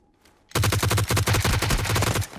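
Automatic gunfire in the PUBG video game on a snow map, a fast, loud burst of closely spaced rounds that starts abruptly after a quiet moment and continues for nearly two seconds.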